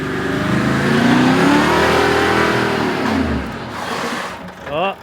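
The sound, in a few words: Toyota Landcruiser engine revving on a 4WD track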